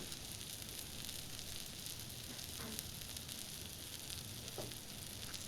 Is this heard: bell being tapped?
no